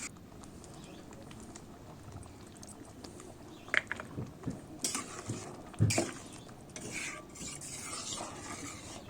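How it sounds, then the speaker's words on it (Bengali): Dal with ghee and chopped coriander being stirred in a pot, soft scraping and clinking of a spoon against the metal in scattered bursts, with a brief sharper knock near the middle, over a low simmering bubble. "ভালো করে মিশিয়ে নিচ্ছি"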